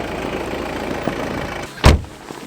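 A car fitted with snow chains pulls away on snow: a low, steady engine rumble, then a brief louder burst as it moves off.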